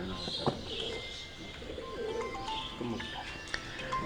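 Teddy-breed pigeons in a breeding setup coo in low, soft rolling phrases, with scattered chirps and a bit of background noise at moderate distance.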